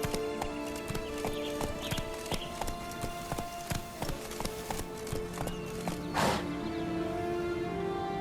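Roach, a horse in The Witcher 3: Wild Hunt's Blood and Wine expansion, gallops with steady clip-clopping hooves over a bed of game music and ambience, with a brief whinny-like swell near the end.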